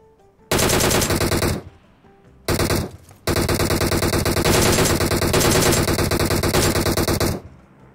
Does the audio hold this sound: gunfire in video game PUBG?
yes